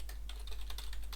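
Quick clicking keystrokes on a computer keyboard while coding, several light taps in a brief burst over a steady low hum, close and faint.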